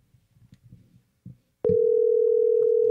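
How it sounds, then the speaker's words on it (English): Faint murmuring and small handling noises, then a steady electronic telephone line tone starts abruptly and holds loud and unbroken. "Oh, it's ringing."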